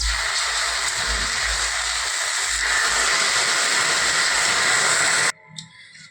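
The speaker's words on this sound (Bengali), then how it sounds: "এখন আমি জল দেবো ধোয়ার জন্য" Water hits dry-roasted mung dal in a hot pan with a loud, continuous hissing sizzle lasting several seconds. It then stops abruptly, leaving a faint clink.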